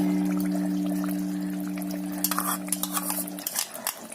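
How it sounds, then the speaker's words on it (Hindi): Yogurt being stirred into cooked mutton in a pan for achari gosht: a steady background hum, then from midway a run of close, irregular spoon-and-pan clinks and scrapes with no talk. "दही को मिक्स कर लीजिए अच्छी तरह।"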